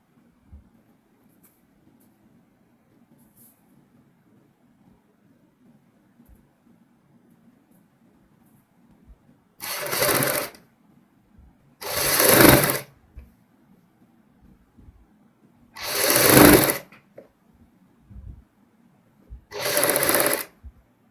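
Sewing machine stitching the back of a kurti neck runs in four short bursts of rapid mechanical whirring, each a second or so long, separated by quiet pauses.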